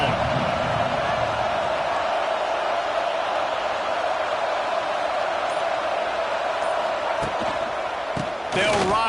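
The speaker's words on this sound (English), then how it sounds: "This crowd ready to make its presence known." A football stadium crowd roars in a sustained, loud wash of cheering that stays steady throughout, with a brief thump near the end.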